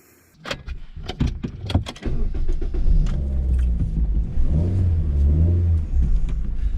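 Someone gets into a Suzuki Ignis Sport: a few sharp clicks and door knocks come first, then the small engine starts and settles into a steady, close idle rumble.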